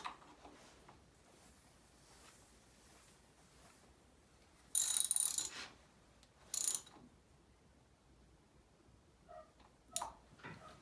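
A ratchet snugs a 1/2 inch NPT sensor adapter into the radiator housing of a Land Rover Series 2A with a Chevy 153 engine swap, giving short bursts of rapid clicking with quiet pauses between them.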